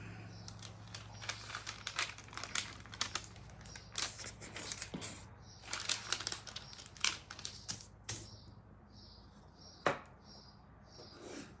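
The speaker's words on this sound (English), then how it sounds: "it's sticking to my parchment." Parchment paper crinkles and crackles in irregular bursts during a laser-cut garden scene craft, a close, dry rustling that comes and goes over a low steady hum, with no one speaking.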